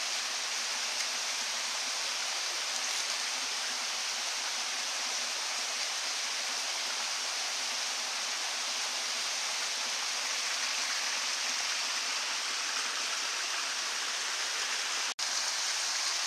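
Steady rain patters on a stretched tarp roof over a bushcraft bivouac in the woods, a dense, even hiss that runs unbroken throughout with no voices.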